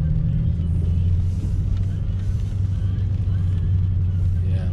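A car engine idles and rumbles steadily from inside a vehicle near a stop sign, a constant low drone with little change throughout.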